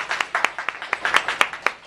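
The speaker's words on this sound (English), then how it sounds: "So if you please give him a round of applause." Scattered clapping from an audience at an NAACP environmental justice event welcoming a speaker, a brief run of distinct, fairly close hand claps rather than a full ovation.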